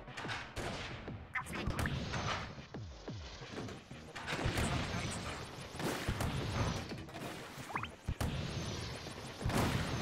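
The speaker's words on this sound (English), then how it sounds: "Need to remember to use the lines as a reference point on this cannon." Booming cannon shots from a Splatoon 2 video game match, loud and repeated with sharp crashing bursts spread across the stretch over a constant busy game din.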